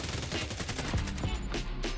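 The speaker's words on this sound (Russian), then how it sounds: "Плюс стрельба тоже, она мне нравится, напоминает чем-то Тарков." Gunfire in the tactical shooter game Hired Ops: rapid, loud shots in a steady burst, dense and close, with sharp cracks running through the full two seconds.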